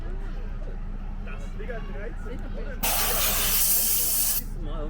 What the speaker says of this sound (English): now it made a steam sound.